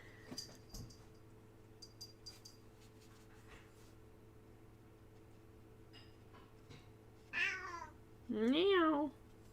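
A cat gives two meows near the end, the second louder and longer, after a stretch of quiet room noise with faint tapping and small clicks.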